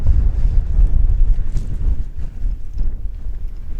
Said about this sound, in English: icy cold wind